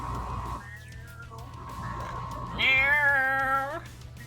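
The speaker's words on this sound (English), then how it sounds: "a bunch of meowing." A stray cat in the video game Vampire: Last Breath meows in long, drawn-out, harmonic cries, one fading early and a louder, strained wail later, close and prominent over a low background hum.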